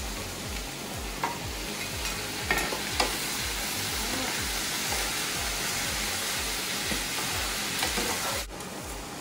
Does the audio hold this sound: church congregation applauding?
no